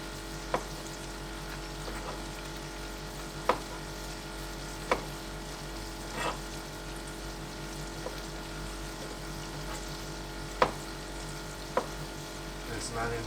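Onions fry and brown in a pan with a constant, close sizzle. Occasional sharp clicks and knocks from stirring break through the hiss. No one speaks.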